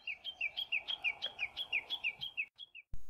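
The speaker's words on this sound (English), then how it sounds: "The chirping at the start of this video is actually the warbling wide eyes call." Warbling white-eye calling in a quick, regular series of bright, high chirps, about a dozen notes close together, then a short pause, two softer notes and a sudden low knock at the end.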